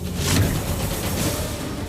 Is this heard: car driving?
yes